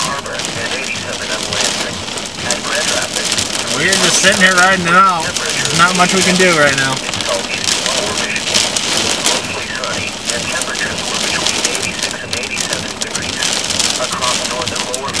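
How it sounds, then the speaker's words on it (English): Dime-size hail and heavy rain pelt down during a severe supercell thunderstorm near Athens, Michigan, a dense continuous patter and clatter with wind, while someone talks over it. "Still dropping dime size hail."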